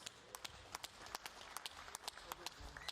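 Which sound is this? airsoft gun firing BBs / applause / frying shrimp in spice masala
applause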